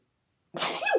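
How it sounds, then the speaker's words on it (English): After a moment of silence, a single loud, close sneeze bursts out and trails off with a short vocal tail. "You're gonna have to deal with my sneeze."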